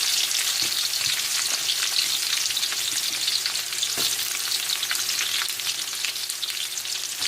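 Red onions sautéing in hot oil give a dense, steady sizzle close by, broken by a few sharp clicks of a utensil stirring the pan, with no voices.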